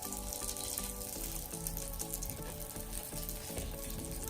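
Vegan fishcakes frying in hot oil until brown and crispy, a steady dense sizzle with faint tonal hum beneath, continuous and close throughout with no talking.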